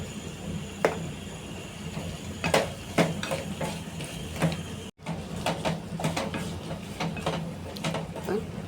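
Baby potatoes coated in masala fry and get stirred in a pan, giving a steady low sizzle with repeated sharp scraping and clinking strokes throughout and a brief cut near the middle.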